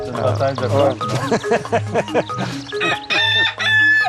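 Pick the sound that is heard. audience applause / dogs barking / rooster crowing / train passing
rooster crowing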